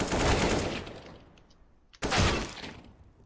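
Gunfire in a Valorant or CS match: a loud burst of rapid shots, a fade with faint metallic clinks, then a second sharp burst of firing, all close and with no voices.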